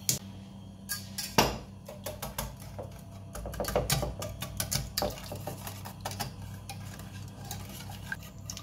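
Lemon tart filling stirred in a pan over medium heat, a utensil scraping and clinking steadily against the pan with irregular taps and ticks, close and fairly quiet.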